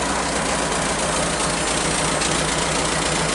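Ford 550 backhoe engine idling, a steady low diesel rumble with a constant mechanical clatter, loud and close with no other sounds.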